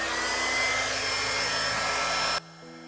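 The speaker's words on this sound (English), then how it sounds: "using my flower blow dryer" A blow dryer on its low setting, held upside down to push acrylic paint in a fluid art bloom technique, gives a steady close whirring hum that cuts off abruptly near the end.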